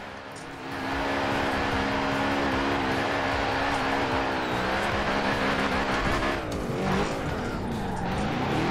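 Racing game car, Assetto Corsa or Forza Horizon 4 played on a steering wheel, drifting with a sustained engine drone and loud, continuous tire squeal that warbles and shifts pitch as the car slides and spins.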